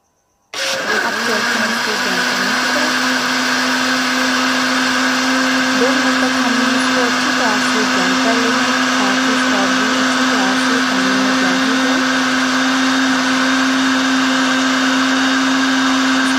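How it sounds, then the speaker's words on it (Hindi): An electric blender whirs strawberries and water into juice, kicking on abruptly after a brief silence and then running at a loud, constant, droning whine until the end. "अब मैं इसको ब्लेंड कर लूँगी"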